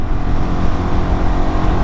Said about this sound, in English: Third gear, fourth gear.